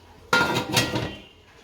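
A metal lid drops onto a cooking pot on a gas stove while Surti locho is steamed: one sharp clank, then a short rattling ring that fades within about a second, close and with no voices.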